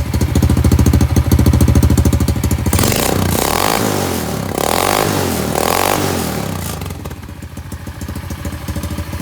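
A Honda CL70 motorcycle engine putters with a rapid, uneven exhaust beat, rising into a couple of louder revs mid-way before settling back to idle.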